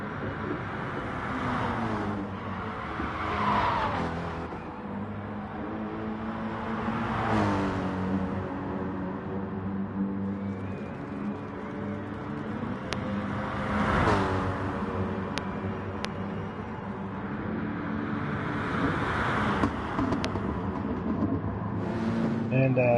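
GT3 race cars lap Kyoto Driving Park in a racing video game, their engines rising and falling in repeated revving sweeps as cars pass, under continuous commentary from a speaker.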